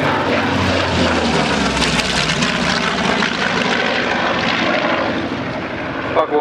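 A loud, steady roar of an Il-2 Sturmovik propeller warplane engine droning continuously, close and filling the whole stretch without pause.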